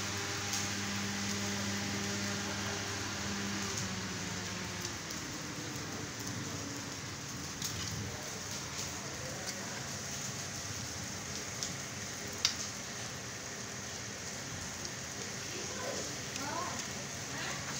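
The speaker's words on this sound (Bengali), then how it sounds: "শিলা পাথর পড়তেছে আমার গ্লাসে" Hailstones strike a glass window in Dhaka amid steady rain, making scattered sharp taps over a dense, continuous wash of rainfall, with a faint low hum early on.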